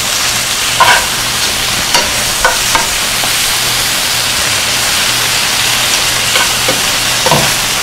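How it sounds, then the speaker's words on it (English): Spinach sautéing in a hot pan gives a steady, close sizzle and hiss throughout, with a few brief scrapes and clinks of stirring and no talk. "I'm going to saute that up just like that."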